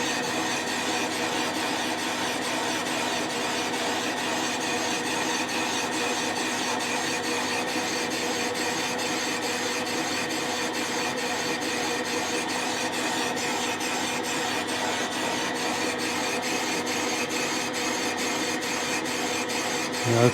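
Boring bar cuts the cylinder of a Yamaha CT-3 engine, giving a continuous, even grinding hiss that holds steady for the full length without breaks, with no talking over it.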